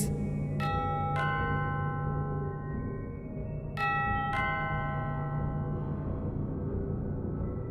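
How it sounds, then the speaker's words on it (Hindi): A doorbell chimes twice in quick ding-dong pairs, rings out, then repeats the double chime after a short pause, over a low background hum. "कानों में डोरबेल की आवाज"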